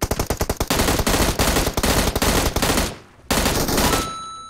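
M16 rifle gunfire in PUBG Mobile: a quick string of sharp automatic shots gives way to loud, continuous firing that briefly dips near the end before another burst, with no voices.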